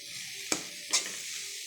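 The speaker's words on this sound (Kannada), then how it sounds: "ಎಲ್ಲ ಚೆನ್ನಾಗಿ ಮಿಕ್ಸ್ ಮಾಡಿಬಿಡಿ." Tomato palya with peanut powder and grated coconut stirred in a pan, two quick scraping strokes over a faint, steady sizzle.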